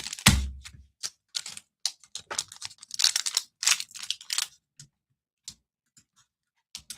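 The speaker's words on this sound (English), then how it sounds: "Let's open up some cards." Pokemon card packs being opened up close, with bursts of crinkly foil tearing and card-flicking ticks in irregular clusters, tapering into sparse soft clicks, no one talking.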